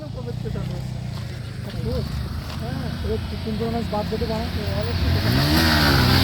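A motorcycle engine revs and rises in pitch as the rider pulls a wheelie, loud and close under excited shouting voices, building toward the end.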